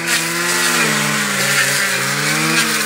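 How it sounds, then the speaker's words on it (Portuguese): A petrol brush cutter clearing undergrowth in a cacao plantation, its engine whining loud and close with a steady buzzing drone that wavers slightly in pitch as the blade works. "Mas com a máquina, com a roçadeira, o serviço é mais rápido"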